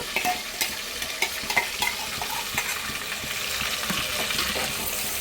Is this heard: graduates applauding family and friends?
no